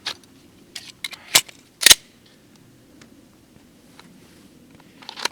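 A Glock 19 pistol, fired during a limp-wrist malfunction test, gives two sharp, loud cracks less than a second apart. Fainter clicks and taps are scattered before and after.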